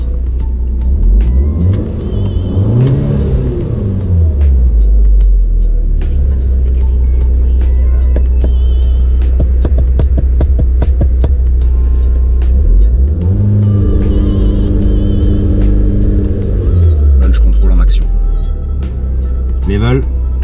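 An Audi S3 8P engine revs up loudly nearby in two swelling, falling pulls with a steady rumble between them, making a launch without launch control, under someone speaking.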